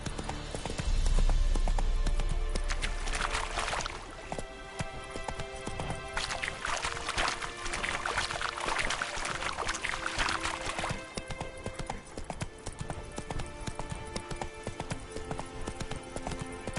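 Roach the horse gallops in a PS4 video game, rapid rhythmic clip-clop hoofbeats running continuously and fairly close, with some splashing and rushing ambience rising and falling underneath.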